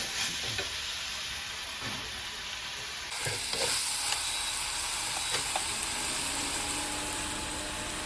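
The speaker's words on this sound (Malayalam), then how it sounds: "ഇഞ്ചി, വെളുത്തുള്ളി, കറിവേപ്പില അതൊക്കെ ഒപ്പരിടുകയാണ്. ഇനി ഇത് നല്ലോണം വഴണ്ട് വരട്ടെ." Onion, ginger, garlic and curry leaves sauté in a pan for a squid curry, giving a steady close sizzle with occasional scraping stir sounds throughout, no voices.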